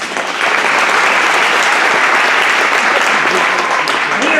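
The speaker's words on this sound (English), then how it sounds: "Give yourselves a round of applause." A large audience at a charity awards gala applauds steadily, a dense, even wash of many hands clapping at full volume from start to finish.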